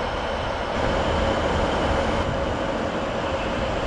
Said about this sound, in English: 185 is leaving